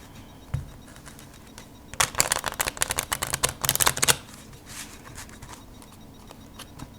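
A deck of Bicycle Pro PokerPeek playing cards is riffle-shuffled close up, giving a dense two-second burst of rapid flicking clicks after a soft handling tap, then a few quieter settling rustles.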